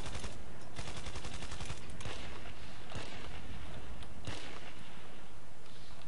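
Rifle fire from a QJY-88 in Battlefield Play4Free rattles in dense, loud automatic bursts that run through most of the stretch, backed by more distant battlefield shooting.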